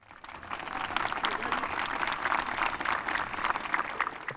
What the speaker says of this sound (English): I want you to give your families a round of applause.